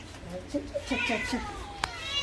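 A cat meows in a home during a birthday celebration, a few short, high cries running into one longer meow, heard under background chatter and children's voices.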